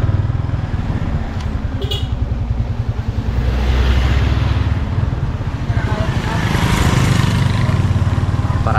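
A motorcycle engine runs steadily nearby, a low rumbling drone that swells slightly as it revs, with faint voices in the background.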